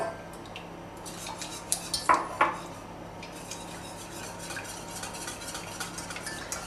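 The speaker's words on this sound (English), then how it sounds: "Keep mixing at the same time." Chocolate souffle batter mixed with milk and eggs in a bowl, soft continuous scraping and whisking with a few brighter utensil clinks near the start, quiet and close without talk.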